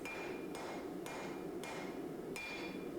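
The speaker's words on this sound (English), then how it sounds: "I'm also going to forge in just a little bit of a taper to the blade." A hammer strikes a damascus steel hunting knife blade, forging a distal taper: about six sharp, evenly spaced blows roughly half a second apart, loud and close over steady background noise.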